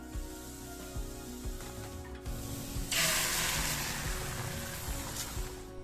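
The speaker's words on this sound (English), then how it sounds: "Did you hear that sound? That's the sound of a properly hot skillet." A sudden loud sizzle erupts a few seconds in as eggs hit a hot skillet of fried rice, over a steady background hum, and continues hissing strongly, close by.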